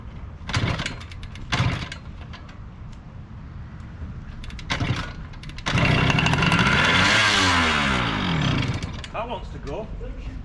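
A Japanese motorcycle engine, ignition switch bypassed, catches after a few short cranking bursts and then revs hard and loud for several seconds before settling to a rough idle, with voices talking over it.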